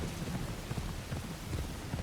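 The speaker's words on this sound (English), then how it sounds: "And this time it's raining, not fog." Rain falling in the Assassin's Creed Shadows video game, a steady dense hiss with soft low rumbles pulsing underneath, continuous and fairly close.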